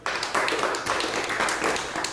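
An audience at a university class on manual vehicle transmissions claps in a brief burst of scattered applause, fairly close and alone.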